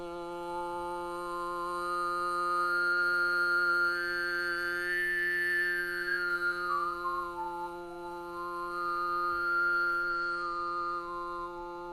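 One singer performs overtone singing over a sustained low drone, with a clear, flute-like upper harmonic tracing a slow rising and falling melody. The sound is continuous, close and unaccompanied.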